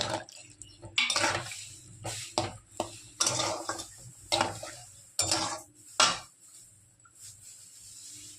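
Taro curry with onion-garlic paste being stirred and fried in a pan, a series of sharp metal spatula scrapes and clanks against the pan at an irregular rhythm, close and fairly loud, with no talk.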